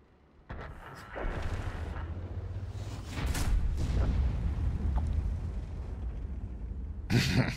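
Tank guns firing in World of Tanks, with heavy booming blasts and rumbling explosions in a sustained battle din, plus a sharp loud burst near the end.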